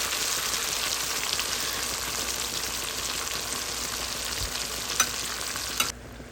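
Dry red and green chilies fry in hot oil with a dense, steady crackling sizzle that holds close and even, ending with a couple of small knocks before it drops away.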